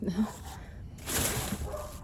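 A dog barks and whimpers in short bursts, fairly close, with a rustling rumble of items being moved in storage around it.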